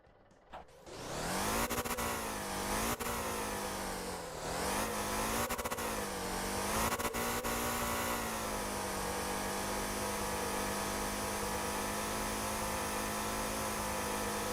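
A high-horsepower car engine revving hard during a burnout in the driving game Motor Town, rising with a few quick pitch swoops before settling into a loud, sustained high-rev drone.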